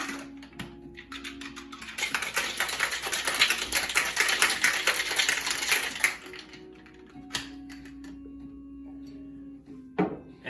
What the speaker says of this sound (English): And then after that, we're just going to shake it.